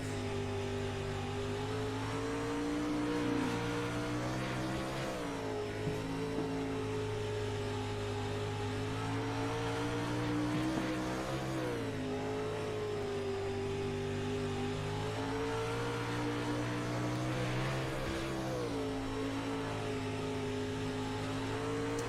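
Pro Late Model stock cars race on a speedway in an afternoon event, several engines droning steadily and loudly together, pitch rising and falling as the cars lap, continuous throughout with no talk.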